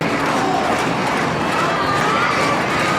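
A large wrestling arena crowd roars in a loud, sustained, dense wash of cheering and shouting during a championship match, with no clear individual voices.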